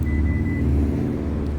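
A Genesis GV80 3.5T Prestige SUV idles after a remote start, a steady low engine rumble heard up close with no talking.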